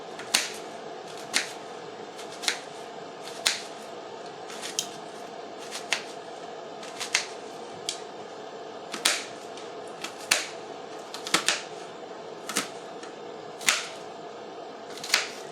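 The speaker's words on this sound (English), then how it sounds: "I'm going to take that chunk of onion, I'm going to slice it halfway," A knife dices a chunk of onion on a cutting board, giving about fifteen crisp, sharp chops at a steady, unhurried pace. The cuts are close and distinct over faint kitchen background noise, and no one speaks.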